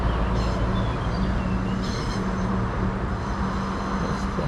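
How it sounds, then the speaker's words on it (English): A two-carriage East Midlands Railway Class 53 train passes on the Derwent Valley line, giving a loud, steady low rumble and engine drone with brief higher squeals and rattles, close and continuous. "And here comes the train. 2 carriages."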